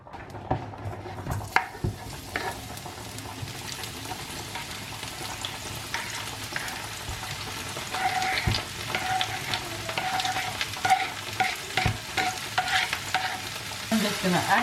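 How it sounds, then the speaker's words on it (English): Mushrooms sautéing in olive oil with seasonings, a steady close sizzle broken by repeated stirring scrapes and occasional clinks of a utensil against the pan. "I'm just gonna add some olive oil to this real quick, and then I'm gonna add all my seasonings in with my mushroom all at once."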